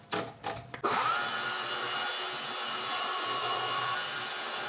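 A pasta roller thins sheets of homemade egg noodle dough: a few short knocks, then a steady, close mechanical whir that holds constant to the end.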